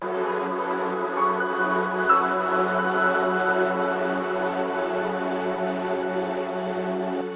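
A sustained, airy, auto-panned synth pad drifts steadily beneath a full electronic mix in a breakdown, its soft shimmering tone holding evenly with no voices present.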